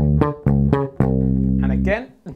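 A disco bass riff's second bar on electric bass guitar: four punchy, sustained notes with a quick rhythmic attack, played close and clear, with a brief fading tail at the end.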